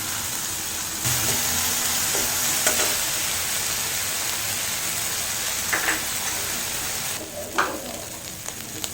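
Green chili paste sizzles and fries in a pan while cooking a Bengali arum curry, a steady close hiss throughout with a few light stirring clicks and no talking.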